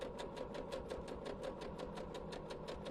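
A sewing machine stitches steadily along a seam, its needle tapping in a fast, even rhythm of about five beats a second over a soft motor hum, close and fairly quiet.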